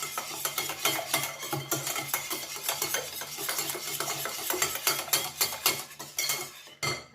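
Sugar and oil for an apple lemon cake are whisked in a bowl, with quick, close clinking strokes of metal against the bowl repeating in an uneven rhythm before stopping abruptly.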